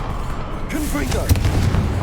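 A Confringo blasting spell exploding in Hogwarts Legacy: a short, sharp boom cracks out under a steady game rumble, with a voice talking over it.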